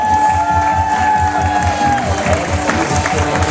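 Wedding guests at a reception in a Marshfield restaurant applaud the bride's grandmother as she enters, a crowd clapping and cheering under a sustained musical tone, with a steady pulsing beat beneath.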